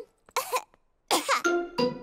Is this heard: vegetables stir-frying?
no